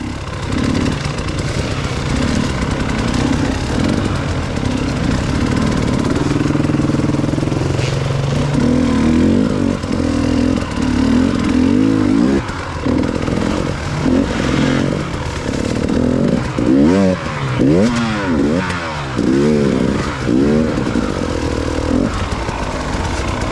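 KTM 500 EXC four-stroke dirt bike engine running loud and close on a rough trail, with a continuous droning engine note, uneven throttle swells and clattering.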